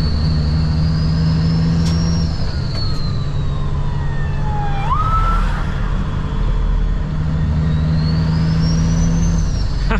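A police car's siren wails and sweeps in pitch as it overtakes a truck, over the truck's steady low engine rumble close by.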